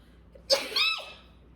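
A single sharp sneeze with a quick inhaled catch just before it, loud and close, followed by a fading breathy tail.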